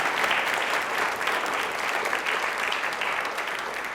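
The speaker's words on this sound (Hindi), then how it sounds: "ताली प्लीज एक बार जोरदार हो जाए।" Studio audience applause during a televised quiz show, a dense, even wash of many hands clapping loudly and continuously for the full four seconds.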